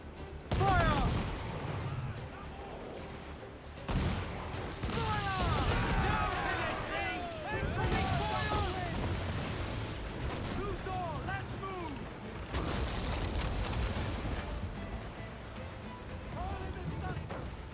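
Ship cannons boom and explosions rumble during a naval battle in Assassin's Creed IV: Black Flag, as repeated heavy blasts roll over one another beneath shouting voices and music.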